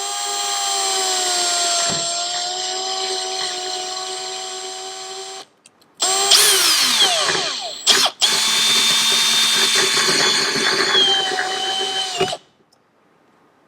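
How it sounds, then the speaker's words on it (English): A battery drill drilling a hole in a go-kart fuel tank whirs steadily at high pitch, stops briefly, then revs up again with a grinding change in tone before cutting off. "put it into the battery drill, and then we're going to drill the hole"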